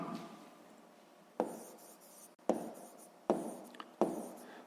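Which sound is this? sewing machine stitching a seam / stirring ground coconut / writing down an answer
writing down an answer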